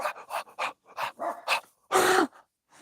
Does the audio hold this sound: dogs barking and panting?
yes